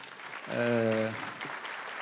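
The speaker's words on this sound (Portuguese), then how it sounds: "pedir uma salva de palmas a todos" A seminar audience on Brazil's data privacy law applauds its panelists in a short burst of clapping that swells and then thins out. A voice briefly sounds over it.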